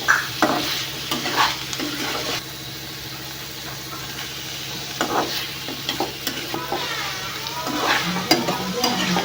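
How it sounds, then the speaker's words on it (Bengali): Paneer curry fries in a pan while a spoon stirs it, making a continuous sizzle broken by repeated scraping strokes and clinks against the pan at an uneven rhythm. "এখন একটুটা আমি নাড়াচাড়া করে রাখবো"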